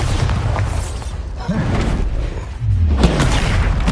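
Bombarda, an explosion spell, is cast in Hogwarts Legacy, bursting as a heavy boom with rumbling impacts amid a dense, continuous wash of loud game combat noise.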